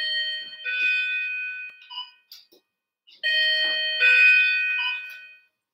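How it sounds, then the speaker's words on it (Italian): A home doorbell rings in two bursts of sustained, bright electronic chime tones, the second longer and louder, heard clearly with no talking over it. "mi suonava il campanello"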